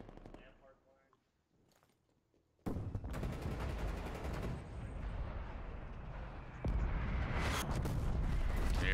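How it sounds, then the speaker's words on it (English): Artillery barrage in a Call of Duty match, heavy booming fire breaking in abruptly after a quiet stretch and building into a loud continuous rumble of blasts, with a commentator talking over it. "Here comes the artillery to try to secure the map"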